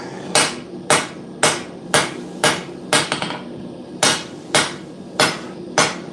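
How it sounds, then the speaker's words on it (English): Hammer blows forging a bar of mild steel for a San mai puukko knife, about ten sharp, ringing strikes in a steady rhythm with brief gaps, loud and close with no talking. "it just looks like I've been hammering on a piece of mild steel"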